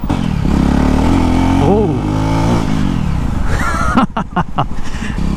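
A Jawa BS6 motorcycle pulls away at low revs, its engine drone rising and falling as it accelerates, loud and close beneath wind rush and a rider's brief exclamation.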